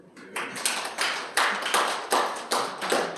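Audience at a workplace safety training session clapping, a few scattered hands giving soft, separate claps in an uneven rhythm, quiet and slightly distant.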